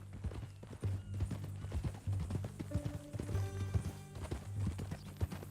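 A horse walking with a steady clip-clop of hooves, close and continuous over a low rumble, with an occasional snort or whinny-like tone mixed in.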